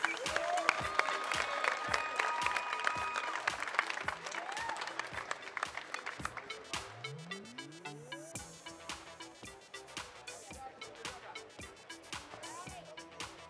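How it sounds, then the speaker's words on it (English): A crowd at a boxing weigh-in for an IBF Pan-Pacific Super Welterweight title bout applauds and cheers, a rhythmic clapping that stays steady and slowly fades under background noise. "Make some noise for these two fighters!"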